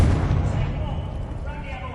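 Confringo explosion spell in Hogwarts Legacy, a loud deep booming blast with rolling low rumble that fades slowly over two seconds.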